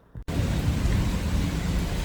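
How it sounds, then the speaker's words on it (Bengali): A steady, dense roar of heavy rain in a Korean village begins abruptly after a brief quiet moment and continues loud and unbroken. "বাইরে বৃষ্টি"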